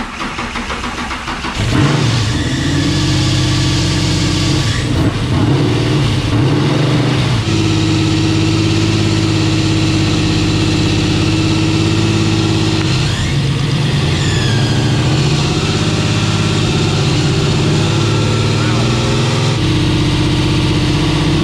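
A 10.3-litre supercharged big-block Camaro engine idles loud and close, a steady heavy rumble with a few uneven revs and stumbles early on before settling into a continuous lopey drone.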